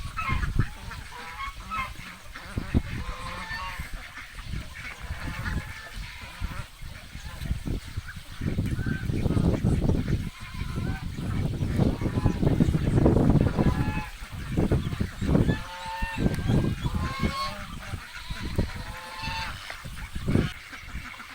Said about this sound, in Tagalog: Ito na lang yung mga natira natin ducks.